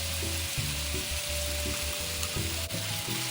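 Pork belly slices coated in curry paste stir-fry in a hot pan, giving a loud, continuous sizzle broken by rhythmic scraping and tossing from the spatula.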